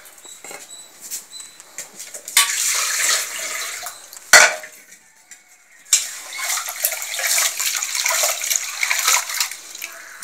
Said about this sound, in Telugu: వీటిని బాగా కడుక్కొని నానబెట్టుకోవాలి.